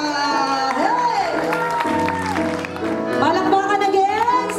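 Audience applause and cheering for Mrs. Marina Taguma at a live event, steady and loud throughout under a tonal, music-like backdrop with voices mixed in.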